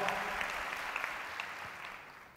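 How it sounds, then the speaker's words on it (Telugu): A church congregation claps in praise, a sustained, fairly distant wash of applause that fades slightly as it goes on. "చప్పట్లు కొట్టి యేసుని మహిమపరచండి."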